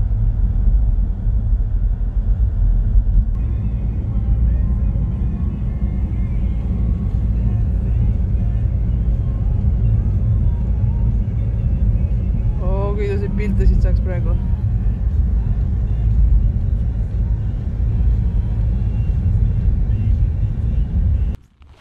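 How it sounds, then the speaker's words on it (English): A car drives along a road in Finland during the polar night, its engine and tyre rumble loud and steady throughout, with a short tonal whine or voice-like sound partway through and an abrupt stop at the end. "Okay, let's go and drive."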